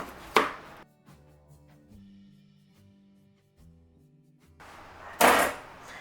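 Potatoes being chopped into chunks with a knife on a cutting board, two sharp loud chops at the start and end with quieter knocking and clatter between them, close by.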